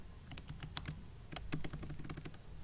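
Keystrokes on a computer keyboard while writing Java code, a steady run of quick, close clicks with brief gaps and a few firmer taps, no talk.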